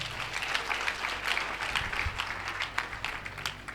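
A church congregation applauding, dense continuous clapping from many hands throughout, fairly close and even in loudness with no gaps.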